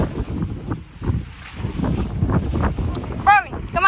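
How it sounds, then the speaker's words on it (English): Strong wind buffets the microphone outdoors beside a sailboat under restoration, a steady rough roar with gusts, while people talk over it. "It's so windy."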